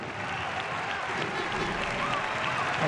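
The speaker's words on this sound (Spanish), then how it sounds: "Y ahora el público en pie aplaudiendo a los protagonistas." A standing crowd applauds the players at the end of the Copa del Rey handball final between Bathco BM Torrelavega and Barça, a dense, steady roar of clapping filling the arena without letup.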